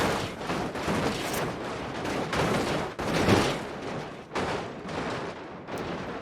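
Rocks tumbling down a landslide and slamming into commercial vehicles in BeamNG.drive, a continuous barrage of loud crunching impacts and thuds in uneven bursts with brief lulls.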